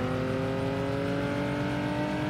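A vehicle engine runs steadily in Unturned with a constant tonal drone and buzzy harmonics, loud and close, with no speech over it.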